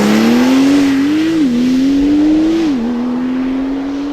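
A Porsche 992 Turbo S accelerates hard from a launch, its engine loud and close, rising in a steady howl that briefly dips at two quick gear shifts.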